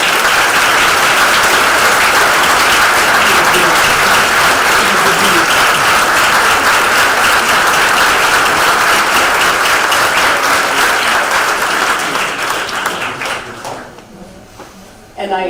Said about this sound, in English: so I ask my staff to please stand up so we can applaud you too.